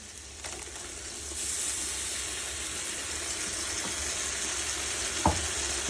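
Ground ginger, garlic and mint paste fries with onions in a pan for camel biryani, giving a steady, fairly loud sizzle and hiss that holds throughout, with a single brief clink near the end.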